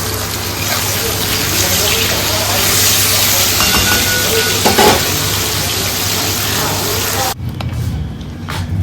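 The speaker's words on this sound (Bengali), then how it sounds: "ঝোলটা ফুটে গেছে" Fish curry broth with parshe fish boils in a pan, giving a loud, steady bubbling hiss close by that drops off sharply near the end.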